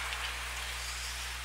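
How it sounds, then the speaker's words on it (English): Freezing rain patters on the roof of an ice rink during a boys' hockey game, a dense, even hiss held throughout over a steady low hum, with no voices. "we start to hear that freezing rain coming down on top of us, top of the roof here at the Grant Rink"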